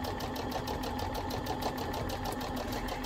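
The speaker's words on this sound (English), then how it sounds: "If I do the same thing on the second seam that I sewed, and sew that one as well," A modern zig-zag sewing machine stitches a seam with a fast, even mechanical chatter that runs steadily throughout, close and moderately quiet, with no voices.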